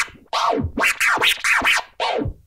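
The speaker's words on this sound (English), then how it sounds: "The rhythm scratch is made of five baby scratches." A turntable rhythm scratch built from five baby scratches, with no crossfader, gives a close, loud run of five sweeping record scratches in quick succession, alone with no talking.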